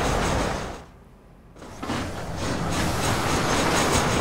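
A train rolling along rails in the Western video game Red Dead Redemption, with a loud steady rumble and clatter that briefly drops away before returning strong and continuous.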